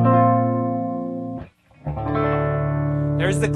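Clean-channel tones from a Fender Stratocaster played through a Mesa Boogie Dual Rectifier 100-watt tube amp, sustained ringing chords with a brief silent gap before a second strummed chord rings out.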